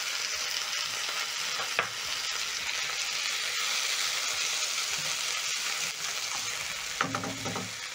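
Onions, garlic, ginger and diced tomatoes fry in a pan for a dish of omena with coconut, a steady broadband sizzle running throughout with occasional stirring scrapes and clinks near the start and end.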